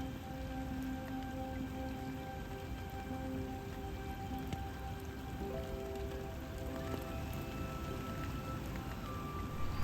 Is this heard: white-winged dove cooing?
no